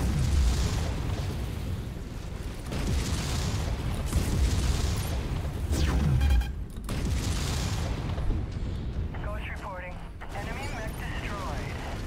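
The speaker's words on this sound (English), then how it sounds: "Critical explosion imminent." Loud, rumbling blasts and crackling bursts from a MechWarrior 5 video game battle fill the scene continuously, with booming impacts, a brief drop-off, then electronic warbling effects near the end.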